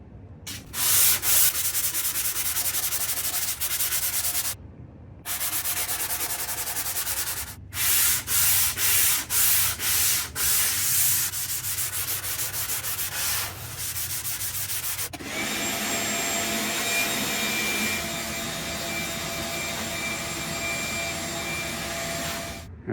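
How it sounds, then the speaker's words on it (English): Hand sanding of a wooden replica SVS PB-3000 subwoofer enclosure: steady, close scratchy rubbing strokes that run continuously with a few brief pauses, growing harsher and brighter near the end, with no talking. "I'm gonna do a little sanding"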